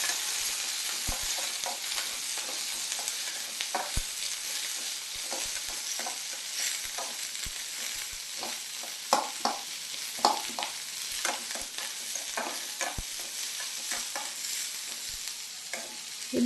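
Onions fry in a pan for okra gojju masala, with curry leaves added, while a spoon stirs them: a steady close sizzle with scattered scraping taps and clinks throughout, and no voices.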